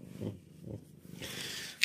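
Hungry house cats purr softly nearby in faint, low, rhythmic pulses, with a brief breathy rush at the end.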